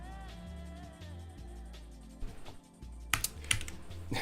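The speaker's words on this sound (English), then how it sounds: "I keep typing these random S's." Typing on a laptop keyboard during a Unity C# coding session, a quick run of key clicks that turns into sharper, louder taps toward the end, heard over a soft musical background.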